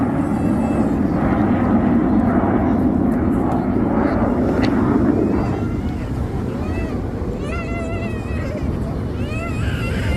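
Red Arrows jets flying the rollbacks manoeuvre at the Clacton-on-Sea air show on the Essex coast, a loud sustained jet roar buffeted by wind noise that eases off slightly partway through, with a commentator's voice heard over the loudspeakers.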